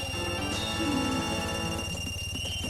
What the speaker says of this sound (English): Maybe wondering what that sound is? That is a Goron